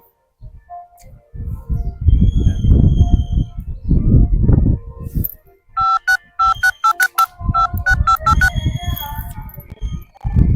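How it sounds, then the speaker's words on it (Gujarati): A phone call being placed: a burst of dialing tones followed by a repeated ringback ring pattern in steady pulses, with loud speech or shuffling noise before and after the tones. "લાવ્યો પપ્પાને ફોન કરી દઉં."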